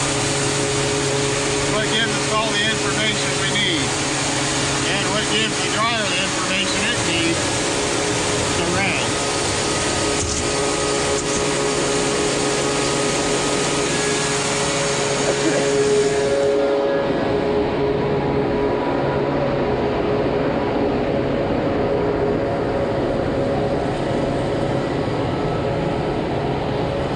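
A grain dryer runs at a grain handling facility, giving off a loud, steady mechanical roar and hum with a broad airy hiss that continues throughout and drops slightly near the end.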